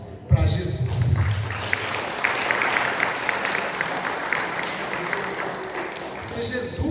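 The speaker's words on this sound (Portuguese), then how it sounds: "eu dava uma salva de palmas para Jesus." A church congregation breaks into applause during a sermon, a broad steady wash of clapping after a sharp onset, with voices talking and calling out over it.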